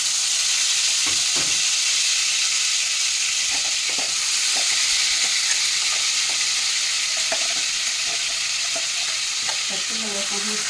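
Stuffed brinjal fries in plenty of hot oil, sizzling loudly and continuously up close while a utensil stirs it with scattered soft scrapes and clinks, and no one speaks.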